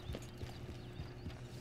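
Horse hooves clip-clop in a steady rhythm in Red Dead Redemption 2, close and moderately loud over a constant low background hum, with no talking.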